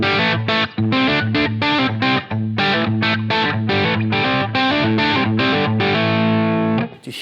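Distorted electric guitar through a Line 6 Helix Rochester compressor (Ashly CLX-52 model) plays a steady, rhythmic pattern of chugging chords with a slightly squashed, even attack, ringing out on a sustained chord at the end.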